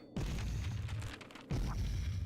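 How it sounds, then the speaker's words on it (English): Two heavy booms from a thrown grenade in the indie roguelike Heartless Dark, each a sharp low blast with a rumbling tail, about a second and a half apart, with no talking. "I'm gonna dodge this guy and throw a grenade at him."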